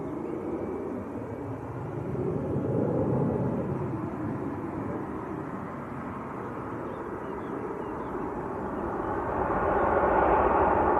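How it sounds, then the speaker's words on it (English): Eurowings airliner lining up on runway 1 at Manchester Airport on a sunny day, a low rumbling engine drone that rises, eases, then swells louder toward the end, heard alone. "Eurowings lining up in the sunshine on runway 1 as well"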